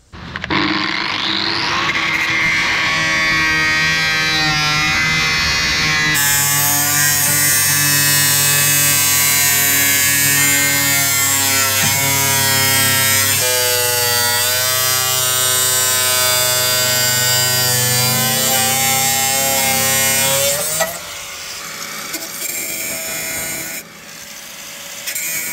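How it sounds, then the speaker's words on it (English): An angle grinder runs steadily along the inner seam of a corroded panel on a 1990 Jeep XJ, a loud, continuous whining grind that shifts in pitch as it bites, then stops abruptly near the end. "now I'm just going to run the grinder all the way along the inner of the seam"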